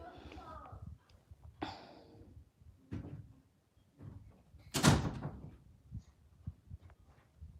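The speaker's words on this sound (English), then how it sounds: "Close the door." An indoor door swings shut with one solid, fairly loud thud midway, among softer knocks and bumps, while a voice talks intermittently nearby.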